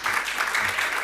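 Audience applause at a municipal climate-change session on coastal management in Eilat, a steady dense patter of clapping filling the whole moment at moderate loudness, with no voices over it.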